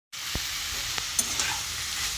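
Grated potatoes for a vegetable chop are sautéed in a pan with a close, even sizzle. A few quick scraping stirs break through the sizzle, and no one speaks.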